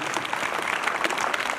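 Audience applause at a Government Model Higher Secondary School event, a dense, steady wash of many hands clapping at once with a faint murmur of the crowd underneath.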